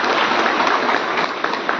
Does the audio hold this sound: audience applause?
yes